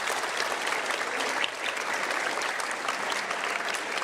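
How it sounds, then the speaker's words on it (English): A concert audience claps for a school orchestra, a loud, dense and steady round of applause from a large crowd lasting about four seconds, with a slight dip midway and no speech. "So one more applause for them."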